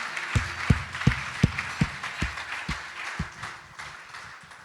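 Church congregation clapping together in a slow, regular beat, a series of sharp, loud claps roughly every half second that grow softer and scattered toward the end.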